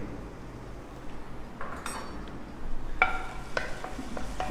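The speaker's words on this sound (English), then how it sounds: "Jeera, saute nicely." Green chili, garlic and cumin seeds sauté in a pan with a soft sizzle. Clinks from a utensil against the pan are heard near the end.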